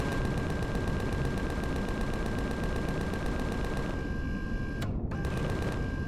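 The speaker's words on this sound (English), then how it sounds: "let's just check the Gatling guns" Gatling guns on a ship in Empyrion Galactic Survival, a dense, steady rapid-fire rattle with a constant whine that cuts out briefly near the end.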